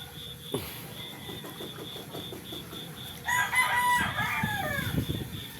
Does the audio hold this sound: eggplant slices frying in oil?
no